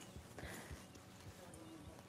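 Horse hooves clip-clop at a steady trotting rhythm in Red Dead Redemption 2, faint and low in the mix beneath a person talking.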